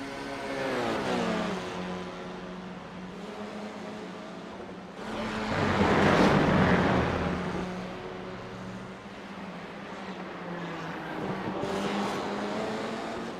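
Formula C race cars at Summit Point Raceway, including the 23 and 110 cars heading into turn 1. Engines drone from mid-distance, swelling loudly as cars pass, then settling into a steady buzz.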